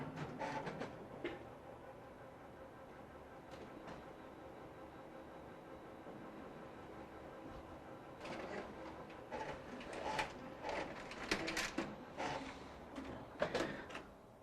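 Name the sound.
Sharp MX copier printing a test pattern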